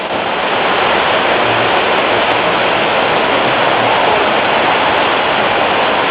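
Three large artificial waterfalls along an indoor river at Opryland, a dense, steady rushing roar that fills the space evenly and close at hand, with no voices.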